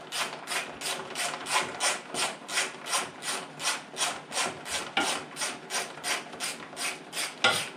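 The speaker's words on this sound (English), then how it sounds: "So it's 10mm socket. So you just connect on each side and then you unscrew it." A ratchet with a 10mm socket clicks steadily while backing out long screws on a Mahindra eMax 20S tractor, an even, close rhythm of about two rasping pulls per second with no talk.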